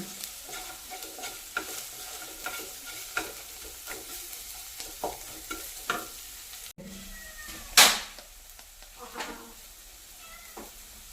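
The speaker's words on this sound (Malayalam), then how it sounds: "അങ്ങോട്ട് ഇളക്കി കൊടുക്കുക" Food frying in a pan with turmeric powder being stirred in, a continuous sizzle broken by regular scraping strokes, close by, with a sharp louder clatter near the end and no clear talk.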